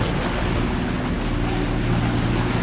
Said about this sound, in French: Démarrage au moteur ce matin.